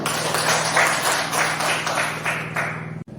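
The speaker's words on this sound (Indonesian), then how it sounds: "Benar sekali, tepuk tangan." Children applaud together in a classroom, a dense, steady patter of many small hands that carries on for about three seconds before cutting off abruptly, with a low hum running underneath.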